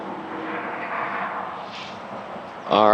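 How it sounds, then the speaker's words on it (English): An airliner arriving from Halifax lands at Toronto Pearson with a steady, distant engine roar that swells slightly, then a voice begins at the end. "It's the flight from Halifax coming in at 142 knots."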